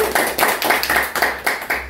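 An audience at a futsal community gathering claps together in a loud, rhythmic pattern of about eight regular bursts, close and clear with no talking over it.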